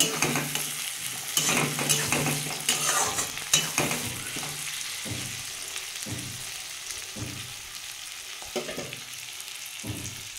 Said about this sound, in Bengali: আমি এবার টমেটোর এই বীজগুলো বাদ দিয়ে কুচি কুচি করে কেটে দিয়েছি, এগুলোও দিয়ে দেবো, দিয়ে ভালো করে ভেজে নেব।